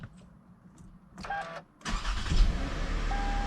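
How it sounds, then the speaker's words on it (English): A 2007 Toyota Camry XLE engine starts up close by: a brief whirring crank, a short pause, then the engine catches and settles into a steady, rumbling idle. "So I'm going to be starting up the engine."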